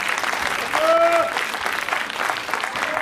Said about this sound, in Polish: I wielkie brawa do pani Agnieszki.